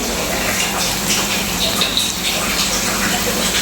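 White vinegar poured into a soybean pickle makes a steady, continuous liquid gush that runs for a few seconds at moderate loudness with no break.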